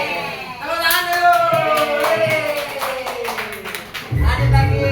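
A group claps under a strong tonal voice or music line, with quick, fairly even handclaps lasting a few seconds before a low thump at the end.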